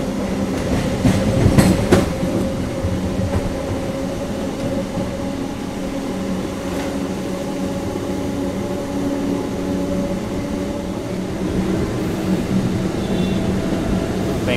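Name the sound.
MEMU train running on track, Hosur to Bengaluru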